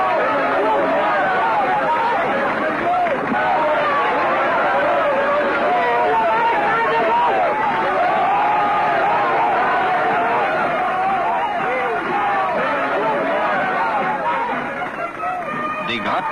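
A large crowd with provincial delegations, ethnic minorities and students cheers, applauds and chatters as General de Gaulle approaches on a state visit to Cambodia, a loud continuous hubbub of massed voices that holds steady throughout.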